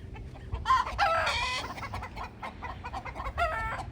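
A backyard hen clucks and squawks in a nest box while laying, giving a series of near, moderately loud clucks in uneven bursts with a faint rasp between them.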